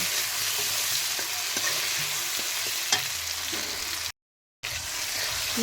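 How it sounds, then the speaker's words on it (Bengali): Cumin and tomato fry in leftover fish oil while being stirred, giving a steady close sizzle with light scraping taps from the stirring. A brief dropout cuts in near the end. "সেই মাছের তেলের ভিতরে দিয়ে দিয়েছি জিরা আর দিয়েছি টমেটো, একটু নেড়ে চেড়ে ভেজে নেব।"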